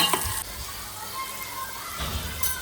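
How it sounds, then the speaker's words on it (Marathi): Cumin and a sesame-coconut paste sizzling in hot oil for a chicken rassa, a continuous close frying hiss with brief louder bursts of spatter near the start and end. "त्याच्यामध्ये तेल टाकलं, थोडं जिरे टाकले, त्याच्यानंतर तीळ आणि खोबऱ्याची पेस्ट टाकली थोडीशी टेस्टला."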